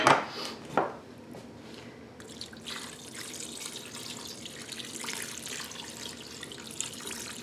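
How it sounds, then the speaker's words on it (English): Water pours into a pressure cooker over pasta for feta pasta, starting with a few clinks and splashes, then a steady, fairly quiet running stream that continues to the end. "So I'm going to add in a little bit of water."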